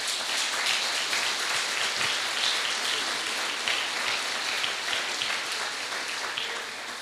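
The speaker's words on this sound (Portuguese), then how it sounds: "Dá um salve de palmas para o Senhor." A church congregation applauds steadily in praise during a sermon, a dense, sustained wash of many hands clapping at even loudness throughout.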